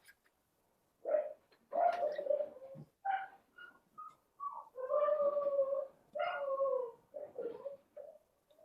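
A puppy running around upstairs lets out a series of whining, howling cries in short bursts, moderately loud with quiet gaps between them, and no talk over them.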